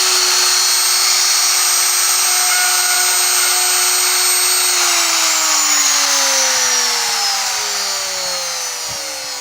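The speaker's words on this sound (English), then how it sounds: "Turn the router on and plunge it into the corner." Router plunge-cutting into the corner of a workpiece, a loud, high steady whine that holds constant and then slowly winds down in pitch as the motor coasts to a stop.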